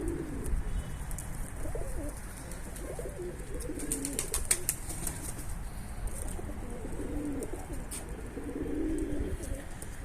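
Pigeons coo repeatedly on a coop roof nearby, soft low throaty calls rising and falling over steady outdoor background noise, with a few faint chirps.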